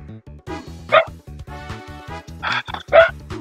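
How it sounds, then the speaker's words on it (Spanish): Small female dog barking in a few sharp, high yips, close by, over steady music playing from a video game. "Lamento si mi perrita está haciendo mucho ruido con sus ladridos"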